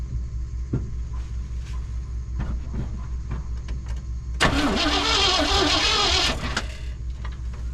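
A 1979 Chevrolet C10 truck that has sat unused is cranked over, its starter churning loudly and steadily for about two seconds after a quieter stretch of low idle-like hum and faint clicks.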